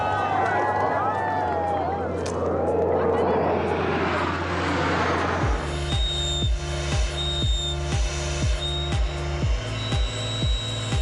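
Patrouille de France jets at an airshow in Méribel, a loud sustained roar of passing aircraft that swells and fades, followed by rhythmic clanking and steady mechanical pulses, with talk over it.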